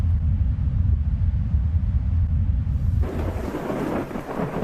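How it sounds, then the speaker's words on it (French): A heavy thunderstorm with a deep, rolling thunder rumble dominating at first, then dense hissing rain sweeping in more strongly partway through, loud and continuous with no voices. "Les orages sont une incroyable manifestation du pouvoir du Créateur."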